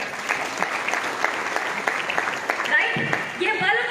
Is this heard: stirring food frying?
no